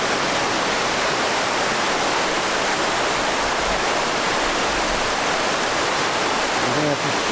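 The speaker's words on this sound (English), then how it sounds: "So we've got a nice sound of water flowing past us." Water rushing steadily past a ledge above a waterfall that drops into a wooded ravine in the Scottish Highlands, a dense, continuous, loud roar with no breaks.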